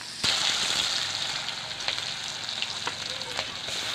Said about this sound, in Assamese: তেলখিনি ভালদৰে গৰম হৈ যোৱাৰ পিছত এয়া পাঁচফোৰণ কেইটামান ফুটাই লোৱা হৈছে আৰু তাতে পিঁয়াজখিনি দি দিছোঁ